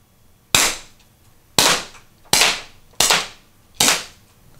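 A modified HDP50 pepperball gun fires five sharp, loud shots at roughly even intervals of just under a second, each crack decaying quickly into near silence.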